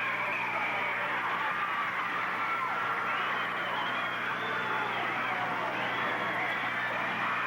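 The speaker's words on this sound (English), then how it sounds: "The crowd is riled, as you would expect." A riled-up crowd at a 1982 Pacific Northwest wrestling title match roars steadily, a dense wash of shouting and cheering that stays loud throughout.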